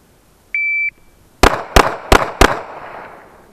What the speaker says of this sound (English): You're gonna fire 4 shots in 3 seconds.